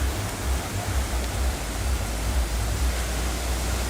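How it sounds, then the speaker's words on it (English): Ocean waves at Narrabeen rock pool in Sydney, a continuous broad wash of surf with a low rumbling swell, steady and fairly close, with no voices. "Wonderful wave sound"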